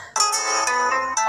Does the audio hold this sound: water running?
no